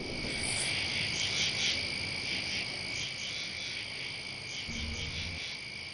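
Frogs croaking in a wild outdoor chorus mixed with insect trilling, a dense, faint, continuous background of overlapping calls with no voices.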